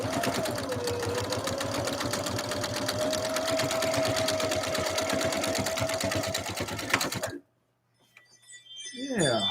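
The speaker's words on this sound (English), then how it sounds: "We'll do this blind hem stitch next." A Husqvarna Viking sewing machine runs steadily, sewing a blind hem stitch with a fast, even rhythmic clatter and a faint motor whine for about seven seconds, then stops abruptly and a voice begins.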